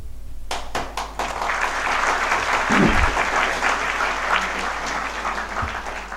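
An audience at a lecture breaks into applause that starts from one corner and spreads through the hall, a dense, sustained clapping that swells and holds for several seconds.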